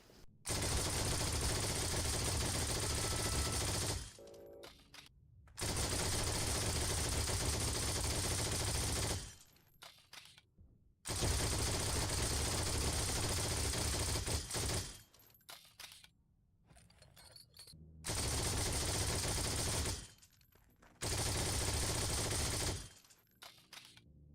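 MG42 machine gun firing in the game Heroes & Generals, long loud sustained bursts of rapid automatic fire, several seconds each, separated by short pauses.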